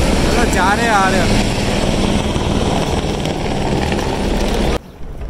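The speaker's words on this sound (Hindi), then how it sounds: "हेलीकॉप्टर जा रहे आ रहे।" Helicopters fly in and out of the Kedarnath helipad in the early morning, producing a loud, sustained rotor drone. Voices are heard over it before the sound drops sharply near the end.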